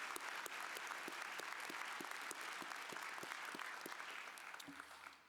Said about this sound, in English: Will you join me in a round of applause for the Millikin Idolin Woodwind Quintet?